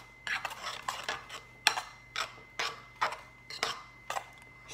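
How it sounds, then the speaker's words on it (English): A spoon scrapes and clinks against a pot while stirring oatmeal, with about a dozen distinct knocks coming in an uneven rhythm, close and moderately loud with no talking. "Now stir it around."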